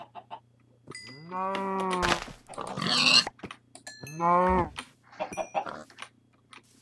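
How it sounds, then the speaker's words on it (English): Cows moo twice in a video game, each a loud, drawn-out call close by, the second a few seconds after the first, with brief talking between them. "grab these cows."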